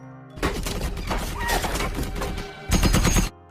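Rapid bursts of gunfire crackle in a dense, continuous volley, then a brief pause before another loud, close burst of shots, in the Indonesian war film Darah Garuda.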